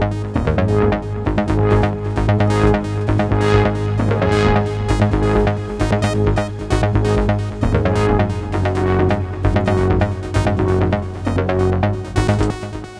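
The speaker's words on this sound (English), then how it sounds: "So all three tracks that started from a Moog now sounds like this" Layered Moog Subsequent synthesizer tracks with heavy effects, a pulsing bass line under bright, rhythmic synth chords, dense and steady throughout.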